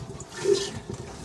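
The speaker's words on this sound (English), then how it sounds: "it's now pumping water in as it's also pumping water out" Marine toilet on a sailboat being hand-pumped, a short gurgling rush of water in and out of the bowl, close and moderately loud, no speech.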